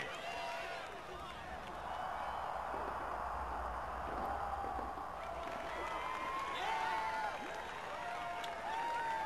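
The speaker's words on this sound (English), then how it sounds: "your fans are really cheering that a real team's come to play" A stadium crowd at Peden Stadium in an NCAA Football video game keeps up a steady, moderately distant roar of cheering and clapping, with a few whistles and shouts rising above the wash throughout.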